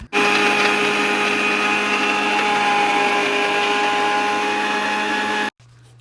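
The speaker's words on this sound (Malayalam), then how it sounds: "നമുക്ക് ജാർ അടച്ച് വെച്ചിട്ട് മിക്സിയിലൊന്ന് അടിച്ചെടുക്കണം" A kitchen mixer grinder blends carrot juice with condensed milk and sugar in a closed jar, a loud steady motor whine running continuously for several seconds before cutting off abruptly near the end.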